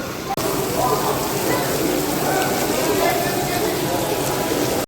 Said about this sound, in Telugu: వర్షం కూడా పెరిగిపోయింది